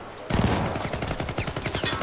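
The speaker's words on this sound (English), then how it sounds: "Please stop shooting me with your fully automatic gun" Rapid fully automatic gunfire from a video game shooter, a dense run of sharp, loud shots in close succession that starts abruptly and keeps hammering without pause.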